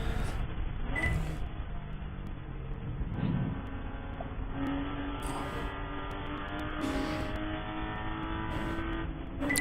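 Race cars at an eight-hour ChampCar endurance race at PittRace, engines droning steadily at speed with rising and shifting pitch as cars run and pass, a continuous loud roar throughout.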